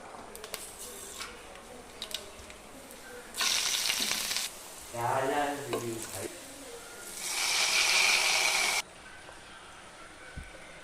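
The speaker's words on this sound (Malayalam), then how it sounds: "ഇനി നമുക്കിതിലേക്ക് കടുക് താളിക്കാം" Mustard seeds crackle and sizzle loudly in hot oil during tempering for a Kerala brinjal theeyal with tamarind water, coming in bursts of spattering with quieter gaps and some faint stirring between.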